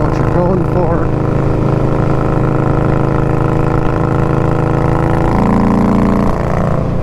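A motorcycle fitted with a Dirty Bird exhaust rumbles loudly and continuously, with a couple of quick throttle blips early and a deeper surge of revving near the end, heard close up.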